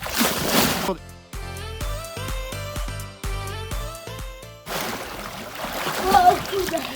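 Someone drops into a backyard swimming pool with a big close splash and churning water, then a stretch of music, then a second burst of splashing and sloshing, with voices around it.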